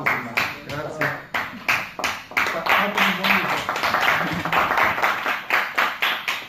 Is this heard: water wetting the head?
no